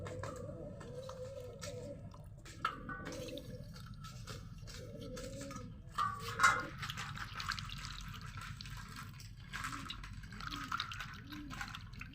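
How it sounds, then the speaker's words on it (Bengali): Lime-soaked ash gourd pieces washed in water for a murabba, with quiet intermittent drips, sloshing and splashes of handled water; a voice speaks softly at times underneath. "এখন ভালো করে জল পাল্টে পাল্টে 4 থেকে 5 বার ধুয়ে নিতে হবে।"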